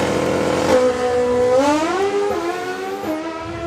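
A Pro Stock drag racing motorcycle makes a qualifying run at the FIA/FIM Euro Finals. Its engine screams loud and close, the pitch climbing and dropping back through several gear changes, with no talking.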